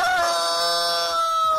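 A rooster crows once, a loud, close, sustained harmonic call lasting over a second.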